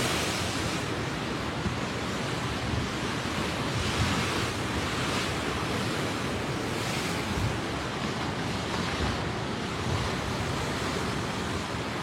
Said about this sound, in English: Now it looks like the tide's coming back in, surging back in.